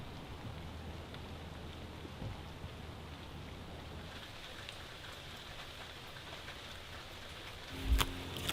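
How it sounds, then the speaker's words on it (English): Rain falls steadily at Homer Spit, a soft continuous patter of drops on surfaces with no voices, broken near the end by a brief nearby clatter. "the rain came back"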